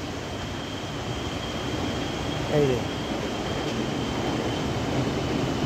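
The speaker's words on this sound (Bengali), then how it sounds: "এই যে মেট্রো রেল যায়।" A metro train passes in Kuala Lumpur, Malaysia, as a steady, low rumbling roar with a faint high whine, holding at an even level throughout.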